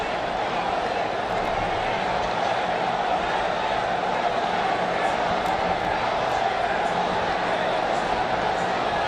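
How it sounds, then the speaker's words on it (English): A large stadium crowd at an India vs Pakistan T20 Asia Cup cricket match roars continuously, a dense, steady wall of cheering and shouting throughout, with a commentator's voice partly under it. "Outstanding crowd here at this stadium today, and they're very vocal right now."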